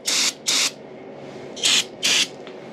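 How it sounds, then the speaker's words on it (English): Carb cleaner sprayed into a dirty part during a Yamaha suspension upgrade: four short hissing bursts, two close together at the start and two more after a pause, close and loud over quiet background, followed by a faint final puff. "Spray it out with some carb cleaner."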